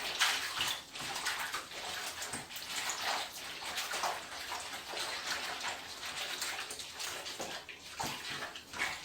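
A hand gently sloshing and agitating a zentai suit in a tub of wash water, a continuous close splashing and swishing with irregular bursts and no talking.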